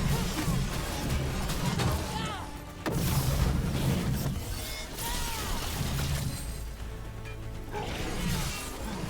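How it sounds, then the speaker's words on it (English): Cannon fire in Dragon Age: Veilguard: heavy booming blasts and crashing impacts land amid chaotic battle noise, with a loud thump near the middle and rumbling debris, over a busy game soundtrack. "Cannon fire! Get clear!"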